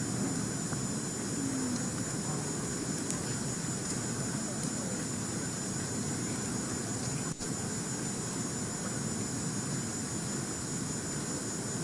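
A Rafale fighter jet's engine sends out a steady, broad roar that holds constant for about twelve seconds, with a faint high whine above it and a brief click partway through.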